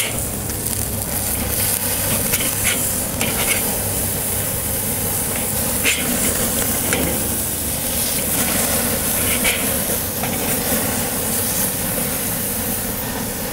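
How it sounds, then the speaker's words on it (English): Burger patties sizzle on the sear side of a grill with a loud, steady hiss and crackle that runs unbroken throughout, close up. "Right here on my sear side. I'm starting to see a little bit of swelling, so I'm going to go ahead and flip these"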